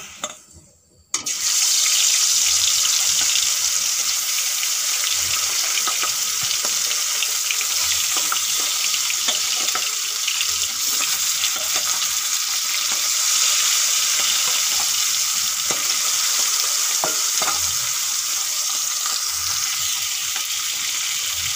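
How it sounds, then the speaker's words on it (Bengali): Hilsa fish pieces coated with turmeric and salt fry in hot oil in a wok, giving a loud, steady, dense sizzle that begins abruptly after a brief quiet moment and continues unbroken. "এখন হলুদ নুন মাখা মাছগুলো আমি ভেজে নেব।"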